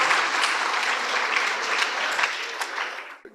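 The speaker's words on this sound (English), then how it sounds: "Please give them a round of applause." Audience applause for high school debate teams at a competition, sustained and dense clapping from a crowd that holds steady, then tapers off and stops near the end.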